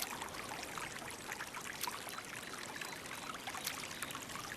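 Small creek flowing in a quiet, continuous wash of trickling water with light splashy flickers, steady throughout with no voices.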